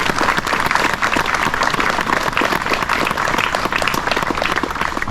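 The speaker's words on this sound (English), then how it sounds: "let's have a round of applause" Steady, loud applause from a crowd of runners and volunteers at a parkrun in Braunstone, many hands clapping at once in a dense, even wash without pause or voices.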